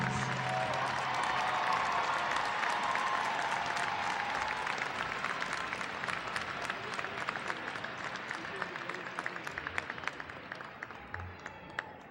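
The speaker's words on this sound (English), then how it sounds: "How about one round of applause for all the graduates?" Sustained, dense applause from a large crowd at a law school commencement ceremony at Hofstra University, loud at first and gradually thinning toward the end.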